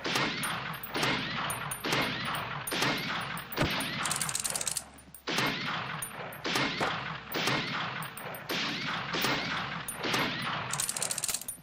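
Rifle fire in the VR shooting game Dynamic Shooting VR: rapid, sharp gunshots in quick bursts and single cracks, loud and close, with brief metallic clinks between shots.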